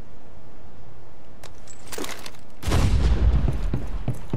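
An impact grenade explodes in a video game, a single loud, close blast with a broad low rumble that bursts in after a few quiet seconds and then slowly decays.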